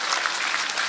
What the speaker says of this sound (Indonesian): tepuk tangan dong buat PSHT saudara